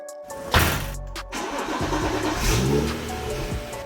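BMW car engine cranking and catching, a brief starter whir followed by the engine settling into a steady idle with a slight rev, close by.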